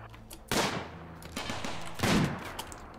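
Gunfire from the guns in the colony-building game RimWorld: a sharp loud burst followed by rapid crackling shots and a second heavy volley, close and without talk.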